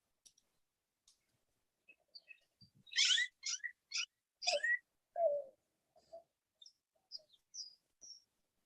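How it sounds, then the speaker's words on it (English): Birds chirp outside through an open car door, scattered short calls and a brief burst of sharper tweets, faint and sparse against near silence. "Birds in the back of his car"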